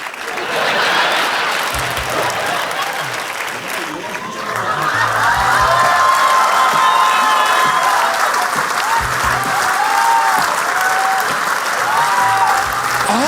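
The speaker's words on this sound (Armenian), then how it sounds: "Ծափահարություններ։" A comedy league stage show's audience breaks into loud, sustained applause, a dense wash of clapping that swells after a few seconds and carries on strongly throughout, with a few crowd voices mixed in.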